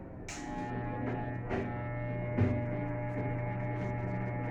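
A steady electric hair clipper buzzes close by during a self-haircut as its adjustment lever is set, giving a constant low hum with faint clicks and no voices.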